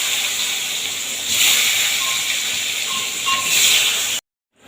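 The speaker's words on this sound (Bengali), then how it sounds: "বেগুনগুলো এবার লাল লাল করে ভেজে তুলে নেব" Eggplant slices frying in oil for a Bengali fish meal, a steady hissing sizzle with a couple of swells and faint tonal clinks, cutting to silence at the end.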